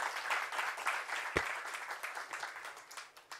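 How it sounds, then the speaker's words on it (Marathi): An audience at a book launch event applauds, a spread of clapping that starts full and gradually thins out, heard at moderate distance. "आपण जोरात टाळ्या वाजवूया"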